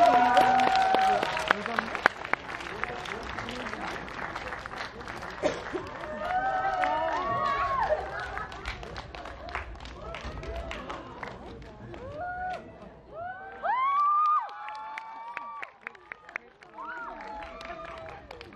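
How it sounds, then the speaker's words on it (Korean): A movie-screening audience at a Megabox COEX theater applauds and cheers as a surprise guest comes onstage, with dense clapping, whoops and excited voices spread through the hall at moderate distance. "큰 박수로 맞이해주세요."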